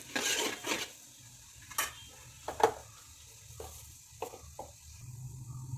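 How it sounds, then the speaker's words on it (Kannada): Chana dal and urad dal frying in a pan give a low sizzle, broken by several scraping and clinking strokes of a spoon stirring against the pan, close by and fairly quiet. "ಸ್ವಲ್ಪ ಫ್ರೈ ಮಾಡೋಣ."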